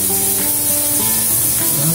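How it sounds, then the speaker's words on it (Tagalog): A pressure cooker with bamboo shoots inside lets out a loud, steady hiss of steam throughout, with a faint tonal whistle underneath. "Pressurize muna natin ang labong para malambot."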